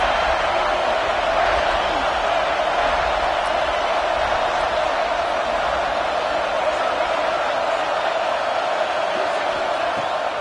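A stadium crowd in the College Football 25 video game roars steadily during a third-down red zone play, a dense, unbroken wash of cheering with no clear breaks.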